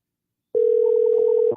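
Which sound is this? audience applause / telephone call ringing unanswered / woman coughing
telephone call ringing unanswered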